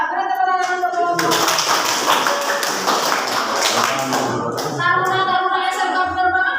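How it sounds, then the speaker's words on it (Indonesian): A group of vocational aviation school students claps for a classmate group in a classroom, a dense steady burst of hand claps running for several seconds between stretches of voices talking. "Beri tepuk tangan untuk kelompok."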